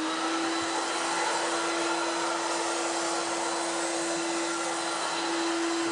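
A Crain Air Lifter appliance mover blows air beneath a heavy refrigerator, giving a loud, steady whoosh with a constant low hum that runs unbroken throughout, with no voices.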